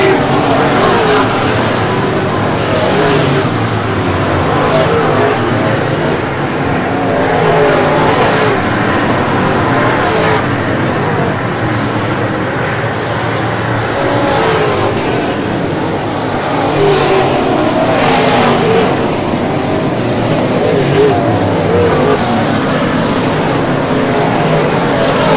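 Pro late model stock cars race at Brownstown Speedway, a dirt oval, with engines roaring continuously as the pack circles, loud and sustained with rising and falling passes, under a track announcer's commentary.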